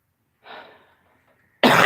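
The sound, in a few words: coughing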